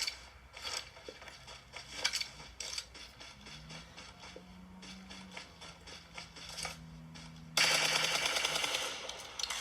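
Gunfire from a distant firefight in the mobile battle royale game PUBG Mobile, heard as scattered bursts of automatic shots across the stretch, growing into a dense, loud volley near the end, with no talking.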